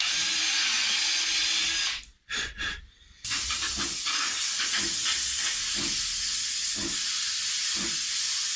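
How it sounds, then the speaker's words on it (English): Drill boring a small hole into a Les Paul guitar neck, with water running over the work: a steady loud whirring hiss that cuts out briefly into a few short pulses, then resumes continuously with faint rhythmic ticks. "Because I'm not keeping the neck, I'll drill another one."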